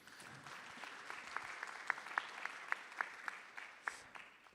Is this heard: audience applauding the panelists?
yes